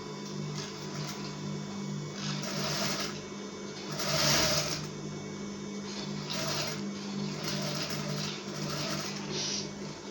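A sewing machine stitches an invisible zipper using a normal straight stitch, its motor humming steadily in close, moderately quiet bursts with a louder surge partway through.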